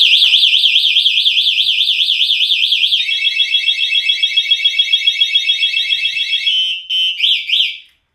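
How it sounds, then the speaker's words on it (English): A loud, shrill anti-theft alarm on a Mercane electric scooter warbles rapidly, then shifts to a pulsing siren pattern before ending in a few short chirps, close and piercing. "you could just arm it, and anybody touches it, it'll go off. That's like a warning."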